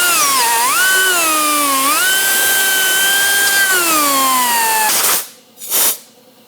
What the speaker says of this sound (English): you got to poke a hole in the side of your box here